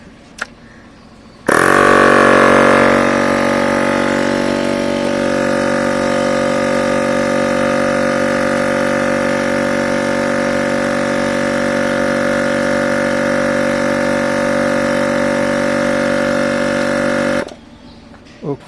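A myTVS Ti86 digital tyre inflator pump starts abruptly, then runs as a loud, steady mechanical drone with a slightly dropping pitch as it works up a tyre's pressure, and cuts off cleanly near the end.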